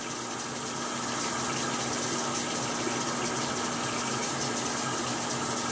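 Running tap water splashing steadily over hands being washed with soap at a sink, a constant close gushing hiss with no talk.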